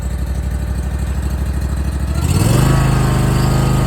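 Small gas engine on a wood log splitter idles steadily, then revs up sharply about two seconds in as the throttle is pushed to full, holding a loud, even higher-pitched drone up close with no talk.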